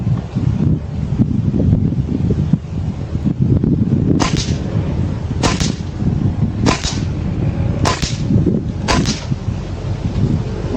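A locally handmade semi-automatic PCP air rifle from Nueva Ecija, not CNC-machined, fires five sharp, evenly spaced cracks outdoors over steady wind noise.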